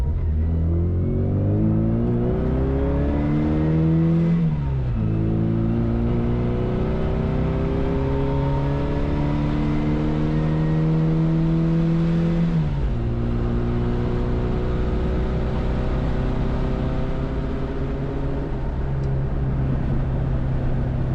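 A tuned classic Mini accelerates hard, its engine note climbing steeply through the gears with two quick shift dips, loud and close, holding a strong, buzzy drone throughout.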